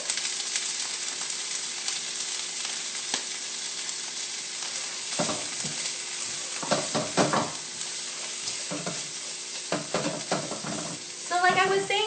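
Vegetables stir-fry in a hot pan for fried rice, a steady loud sizzle with intermittent scraping and stirring strokes and a few clinks near the end.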